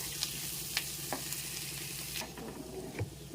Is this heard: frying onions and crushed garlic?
yes